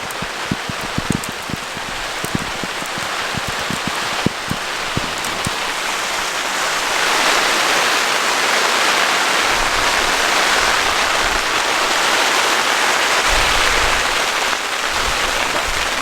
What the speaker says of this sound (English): it seems to be hailing, so even a better thing we're under here